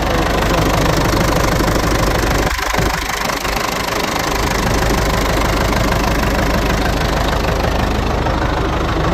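A Belarus 82.1 MTZ tractor engine runs close by with a loud, steady, unbroken drone throughout.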